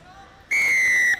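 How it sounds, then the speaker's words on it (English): A referee's whistle gives one long, loud, steady blast to start the second half of a club rugby league match, lasting over half a second. "The initial whistle of the second half"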